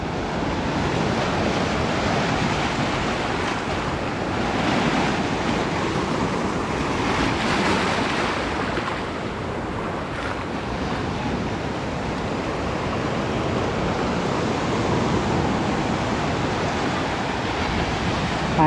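Sea waves washing onto a rocky shore, a continuous broad roar of surf with gentle swells in loudness and gusts of wind buffeting the microphone, loud and steady with no talk.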